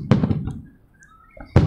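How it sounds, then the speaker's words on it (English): Fourth of July fireworks exploding, with sharp booming bursts at the start and again near the end, separated by a quieter gap with faint crackle and distant noise. "I haven't seen that many fireworks since like 2015"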